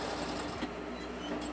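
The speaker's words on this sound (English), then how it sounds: "right now I'm just putting the foundational stitch on this" A sewing machine lays a foundational stitch along a zippered pocket, a steady close mechanical whir with a faint rapid needle rhythm running throughout, no talking.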